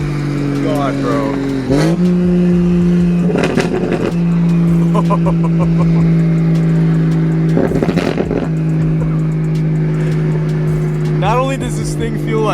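A 600whp single-turbo N54 BMW 135i with side-exit exhaust drones loudly from inside the cabin, its engine note rising and shifting as it accelerates hard, with people talking and exclaiming over it throughout.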